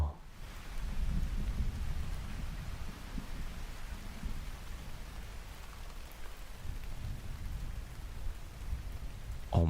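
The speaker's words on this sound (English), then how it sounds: "This kind of storm would be so nice." Rainstorm in a game with a continuous rushing patter of rain and low rumbling underneath, moderately loud and steady throughout, no voices.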